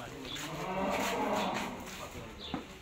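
Dairy cows on a farm give one drawn-out, fairly loud moo, with a voice talking faintly in the background.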